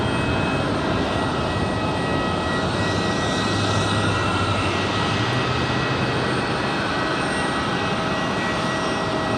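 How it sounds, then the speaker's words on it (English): A Frontier Airlines jet rolls down the runway on its takeoff run at Raleigh-Durham International, a loud, steady engine roar that holds throughout with no voices. "Hops the Rabbit there for Frontier Airlines on the roll"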